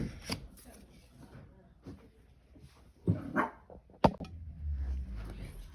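A pet dog named Bella barking indoors, a few scattered barks and yips amid quiet room noise and shuffling.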